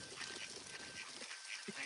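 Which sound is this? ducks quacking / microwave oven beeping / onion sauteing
ducks quacking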